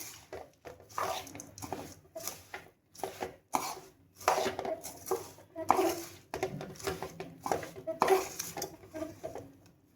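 Roasted puffed rice is stirred into white sugar syrup in a pan, giving irregular bursts of scraping and rustling with brief quiet gaps, close and moderately loud.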